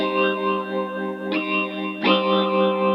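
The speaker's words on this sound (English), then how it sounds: "At this point, we've got the guitar." Guitar loop inside a beat arrangement, heavily processed with chorus and echo, sustained layered tones with two strummed or plucked onsets, steady and close, no voices.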